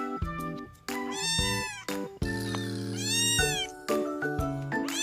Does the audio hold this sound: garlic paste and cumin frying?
no